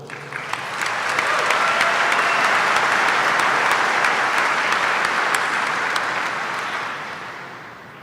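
A large commencement audience applauds doctoral graduates with a full, dense roar of clapping. It swells over the first second, holds steady, then tapers gradually toward the end.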